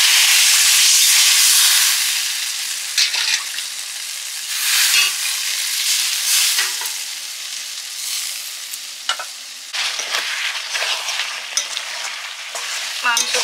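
Water is poured over chicken frying in a pan, bursting into a loud hissing sizzle that gradually settles into gentler, uneven crackling and bubbling with occasional spits and stirring.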